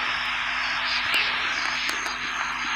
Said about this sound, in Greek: Μπορώ να φύγω με το ελικόπτερο εύκολα.